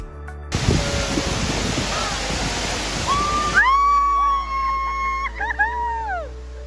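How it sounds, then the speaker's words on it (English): A waterfall in tropical Fiji roars as a dense, steady rush for about three seconds, then drops away, leaving clear whistling bird-like calls over a quiet background. "Finally, the waterfall."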